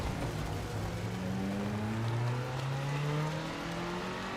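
Race car in a racing video game, with a steady, continuous engine and road drone whose pitch climbs and settles across the stretch, moderately loud and with no talking.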